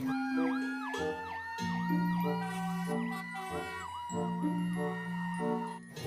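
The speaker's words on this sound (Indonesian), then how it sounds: "Wow, mobil pemadam kebakaran." An electronic toy fire truck siren loops close by, with repeating wailing tones over a cycling tinkly melody and bright chimes, with no talking over it.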